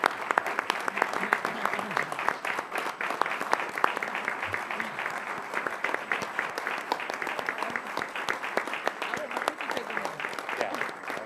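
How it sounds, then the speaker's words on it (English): Sustained applause from a council meeting audience welcoming new police officers, a dense, steady wash of many hands clapping throughout at even loudness, with scattered voices underneath. "Let's put our hands together for a welcome applause to our new officers."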